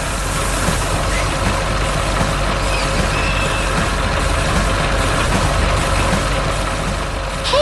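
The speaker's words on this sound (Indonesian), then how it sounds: "Hei, traktor biru sedang mengangkut trailer oranye di taman yang hijau dan penuh semangat." Blue tractor pulling an orange trailer through a green park, a continuous loud low engine rumble and drone holding steady throughout with no voices.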